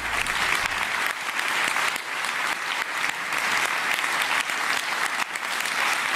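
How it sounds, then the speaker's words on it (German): Studio audience applause on a German late-night talk show, a dense, steady burst of many hands clapping close up that holds evenly for about six seconds with no voices on top. "das tut gut, dieser Applaus"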